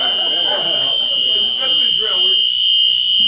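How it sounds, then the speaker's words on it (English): Loud, steady electronic fire alarm tone blares continuously during a live comedy show, with a comedian talking over it. "I've never done well during a fire alarm before."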